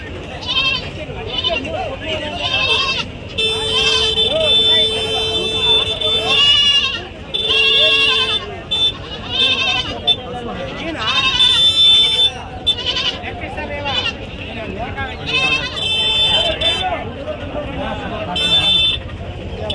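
Young goats bleat repeatedly over the busy chatter of a crowded outdoor weekly livestock market, with a vehicle horn sounding now and then.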